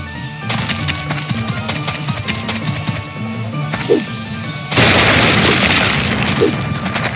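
Rapid pistol shots crack out in bursts from the audio game Blood Shed, loud and close, stacked over a continuous game backdrop that swells louder partway through.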